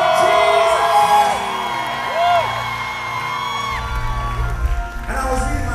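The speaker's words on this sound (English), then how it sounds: "Come on, somebody lift your voice up and scream, Jesus." Crowd at a gospel concert in Ukraine whooping, yelling and shouting, with rising and falling cries over a loud, sustained background of voices.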